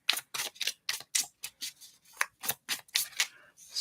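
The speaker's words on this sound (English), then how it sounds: "I'm sitting here shuffling, and the sister card just flies up out of here" Oracle cards are shuffled by hand in a steady run of soft, crisp riffling bursts, about a dozen quick slaps and rustles, close and moderately quiet with no speech.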